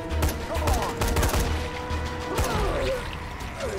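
Rapid bursts of gunfire from weapons in the zombie game Dying Light, several overlapping shots and impacts crackling loudly over a few seconds.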